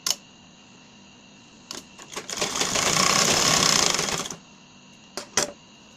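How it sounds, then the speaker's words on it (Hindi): Sewing machine stitching a blouse lining strip, a close mechanical whirr that rises into a steady three-second run of stitching, framed by brief clicks and short bursts before and after, with no voices. "अब इसे हम स्टिच कर लेते हैं।"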